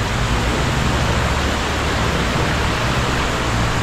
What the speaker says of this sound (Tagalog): Parang may waterfalls.